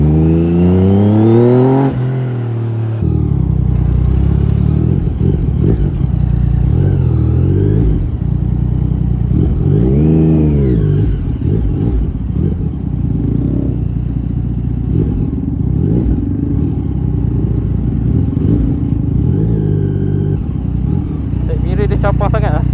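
A Yamaha MT-09 V2 motorcycle revs and accelerates hard, its engine pitch sweeping up and down repeatedly at close range, with a rider talking over the engine throughout.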